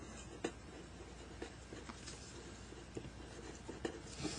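Pen or pencil writing on paper while a percent is worked out as a fraction over 100, faint scratchy strokes with a few light taps, close and alone.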